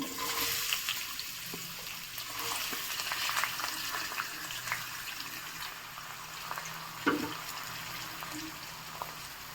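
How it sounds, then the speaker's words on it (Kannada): Cinnamon, cloves and onion frying in hot oil in a pan, a continuous sizzling hiss broken by scraping stirs and a few sharper spatters, fairly close. "ಎಣ್ಣೆ ಕಾದಿದೆ. ಈಗ ಚಕ್ಕೆ ಲವಂಗ ತೊಗೊಂಡಿದ್ನಲ್ಲ ಅದು ಹಾಕ್ಕೋತಾ ಇದ್ದೀನಿ. ಹಾಗೆ ಈರುಳ್ಳಿ ಹಾಕ್ಕೋತಾ ಇದ್ದೀನಿ."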